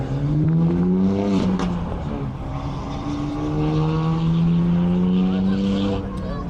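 A BMW M2 with a manual gearbox revs hard and accelerates away, pitch climbing then dropping at a gear change before rising again, loud and rough with some background noise.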